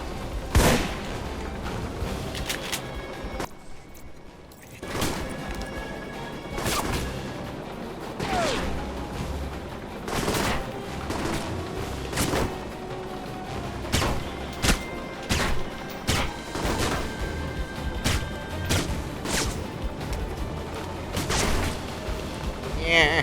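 Gunfire in the video game Alpha Protocol, including an enemy's machine gun, sounds as repeated sharp bursts and thuds throughout, with someone talking over the shooting.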